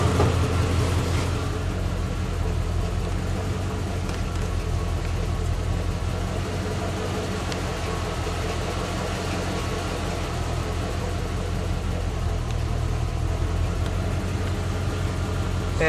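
A 1986 Corvette L98 V8 engine idles steadily nearby after EGR port cleaning, a constant low rumble that holds even throughout, with no talking.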